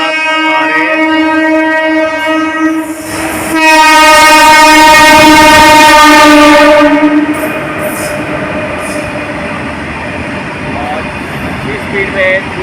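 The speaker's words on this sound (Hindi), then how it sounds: "फ्रेट ट्रेन ये काफ़ी अच्छी खासी स्पीड से यहाँ से गुजर रही है" A freight train hauled by twin WAG 5 locomotives passes through Chheoki Junction at speed: loud horn blasts with a strong tonal blare, then heavy rolling wagon rumble and clatter close by.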